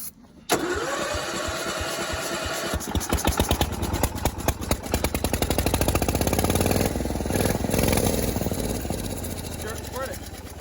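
A boosted lawn mower engine sputters to life after a brief pause and keeps running loudly with an uneven, surging rhythm, with people talking over it.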